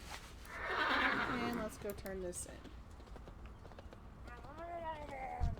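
A horse whinnies loudly amid galloping hoof clops in a World of Warcraft game, with a person speaking briefly; more whinnying follows over steady rhythmic hooves.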